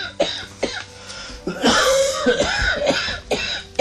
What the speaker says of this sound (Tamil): என்ன இப்படி இருமுறாங்க?